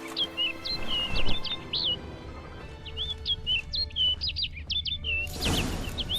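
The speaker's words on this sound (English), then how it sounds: "Looks like the bird's leading me somewhere." Birds chirp in The Witcher 3: Blood and Wine, repeated quick high tweeting phrases in two bursts, moderately close, over a low ambient game background with a louder rustling swell near the end; no talking.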